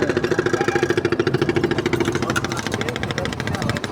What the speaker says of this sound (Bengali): আর স্পিড বোটটি অনেক সুন্দর গতিতে চলতেছে